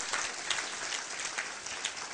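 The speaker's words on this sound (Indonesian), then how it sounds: "Berikan tepuk tangan yang meriah buat Tuhan" A church congregation claps during a sermon by Pastor Gilbert Lumoindong in the U.S., a short burst of moderately loud, dense, rapid applause.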